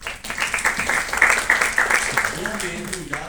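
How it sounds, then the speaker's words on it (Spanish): Applause for a new physiology professor in a university classroom: a short burst of clapping from a modest group, with voices talking over it. "Por favor, un aplauso para la profesora."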